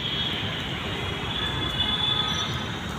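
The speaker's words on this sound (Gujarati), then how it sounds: "metro train" Metro train passing in Ahmedabad with a continuous rolling rumble and a high, sustained wheel squeal, heard at moderate distance and steady throughout.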